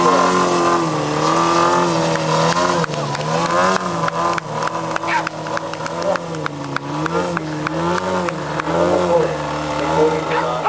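A high-pitched electric motor whine, steady and loud, swelling and dipping in pitch as an electric model aerobatic airplane swoops and turns nearby.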